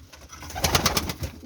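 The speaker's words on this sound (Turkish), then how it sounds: "İçinde çorum çıplakları var" Several Çorum Çıplak pigeons coo in soft, repeated bursts, the cooing rising to a clear cluster midway before fading, with low background rumble throughout.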